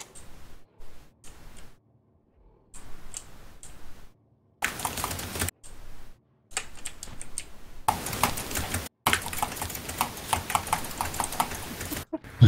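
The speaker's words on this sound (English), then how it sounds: "I think Ice is spamming the keyboard" Computer keyboard keys are hammered rapidly during an online game, with fast bursts of clattering taps separated by short pauses and growing denser and louder toward the end.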